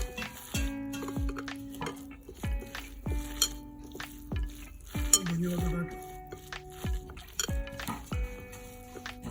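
Small dried loitta fish being hand-mixed in a bowl with salt, raw onion, garlic and dried chili, giving a steady run of close clinks, taps and soft scrapes against the dish.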